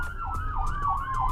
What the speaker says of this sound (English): We're going to go code 3, lights and sirens.